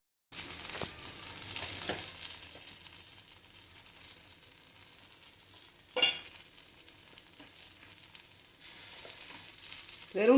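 Potato and drumstick stir-fry with chili powder sizzles steadily in a pan, broken by a few louder scraping stirs and crinkly clatters, with no talking.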